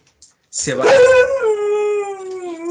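A dog howls in a long, wavering, rising-then-sustained tone close by, lasting almost the whole stretch after a brief quiet start, with no talk over it.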